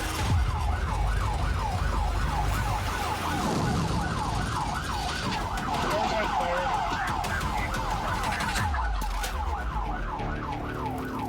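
Police car sirens wail in steady repeating sweeps near a minivan driving on a flat tire and throwing sparks, loud and continuous over constant road and engine rumble, with brief bursts of scraping noise.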